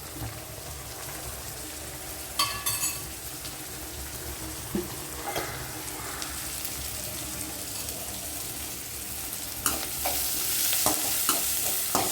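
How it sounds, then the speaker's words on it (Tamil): Food frying in a pan and being stirred, with a steady sizzle throughout and a few sharper scraping clatters of the utensil, close and moderately loud, no talking. "வறுத்தாச்சு"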